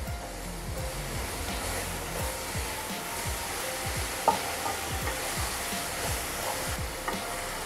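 Cluster beans with turmeric frying in a pan with a steady, hissing sizzle and soft, repeated stirring strokes up close, with no talking.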